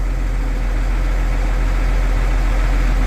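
A farm tractor engine runs at a steady idle close by, a loud, unbroken low rumble and drone with no change over the few seconds.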